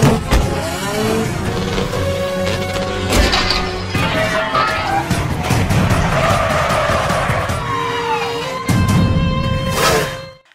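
Cars in a police chase, one ramming into police cars: loud screeching tires, revving engines and crunching impacts pile up continuously, ending in a final burst before fading out.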